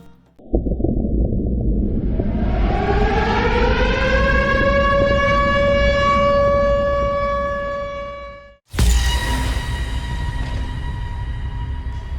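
A loud fire station alarm siren winds up from a low growl to a sustained wail, cuts out abruptly, then restarts at full pitch with a ringing tone.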